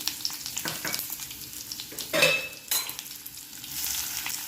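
Onion and tomato being added to a frying pan for vada curry and stirred, a soft sizzle broken by several quick scraping stirs and a louder burst midway, with no voices.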